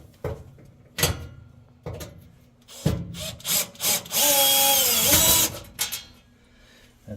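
A screwdriver or drill backs out the two P2 screws on a Samsung oven door, giving a run of short mechanical bursts and one sustained whirring spin up close, with no talking.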